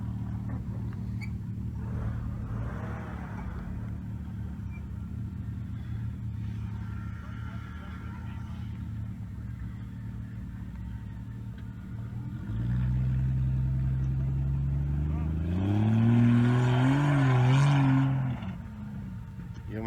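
A Jeep Cherokee XJ driven by a 12-year-old girl hums low and close, then the engine revs louder with rising and falling pitch near the end, while voices speak faintly over it.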